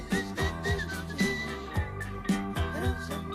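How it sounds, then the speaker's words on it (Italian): Melodic whistling of a tune over music, in a steady rhythm with accompanying instruments underneath. "e comincio a fischiare"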